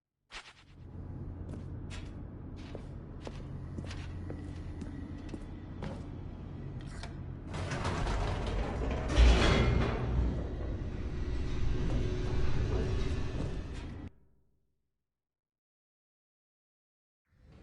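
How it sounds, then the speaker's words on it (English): An elevator descending in The Stanley Parable video game: a low mechanical rumble with clanks and a rising whoosh, growing louder midway, then cutting off abruptly to silence. "The elevator raced downward, plummeting towards an unknown fate."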